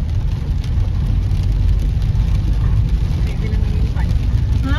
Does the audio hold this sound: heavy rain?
yes